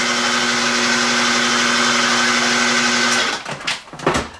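A kitchen blender pulses a sauce made with oil in one loud, steady whirring burst of about three seconds, then cuts out and rattles briefly as it winds down.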